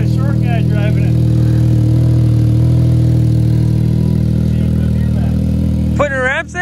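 A Can-Am Maverick X3 engine runs loud and close in a steady droning hum, with brief high squeaky chirps near the start and the end.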